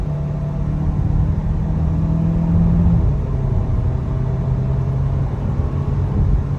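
A 2021 Hyundai Kona 1.6 on a test drive in sport mode, heard from the cabin as a loud steady engine drone and road rumble with a slight pitch shift midway, no voices.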